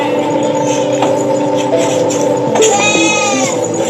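A goat bleats repeatedly, strained and rising, while being attacked, with steady background noise throughout and a sharper cry near the end.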